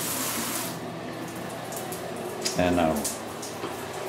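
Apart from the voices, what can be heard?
hot water running from a tap being turned off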